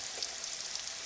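Spiced cauliflower crumble with chili powder browning in a frying pan, with a soft, steady hiss of sizzling oil, faint and continuous.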